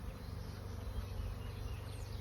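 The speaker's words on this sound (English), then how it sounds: "Oh, I see you buzzing your wings." Honeybees buzz at an open beehive during an inspection, a dense, continuous droning hum close to the listener, steady and without speech.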